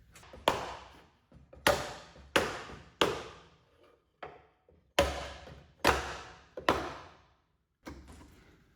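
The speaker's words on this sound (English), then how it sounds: "I'm going to bang off the back here in order to get these pocket screws out" Sharp wooden bangs strike the back panel of a wooden nightstand drawer to knock it loose, about ten separate knocks in an uneven rhythm, each ringing briefly before fading.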